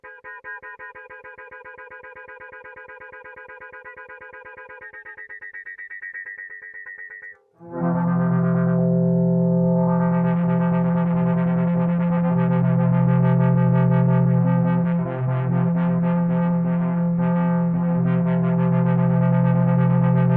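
ATOMS synth by Baby Audio on iOS, a bright buzzing tone that shifts pitch, cuts out briefly, then returns as a thick, loud modulated and filtered pad sustained to the end.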